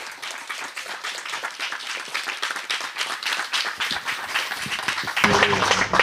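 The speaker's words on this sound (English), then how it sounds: "let's give Andrei a round of applause." Audience applause at the close of a summer theatre camp presentation, a dense steady patter of many hands clapping for about six seconds, swelling slightly near the end as a voice begins to speak.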